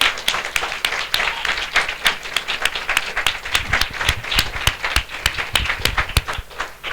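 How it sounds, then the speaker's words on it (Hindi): A church congregation claps loudly and steadily for several seconds, a dense crowd applause with sharp individual claps standing out. "हम जोरदार ताली से उनका स्वागत करें।"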